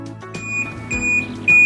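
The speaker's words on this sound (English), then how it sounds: "Alarm will automatically stop after 5 seconds of no movement." Sharp electronic alarm beeps from a bike lock sounding in short repeated bursts, loud and close, over a low tonal background.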